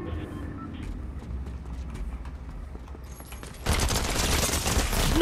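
Dual epic micro SMGs in a video game open up in a dense, loud burst of rapid fire near the end, after a stretch of quieter gameplay noise.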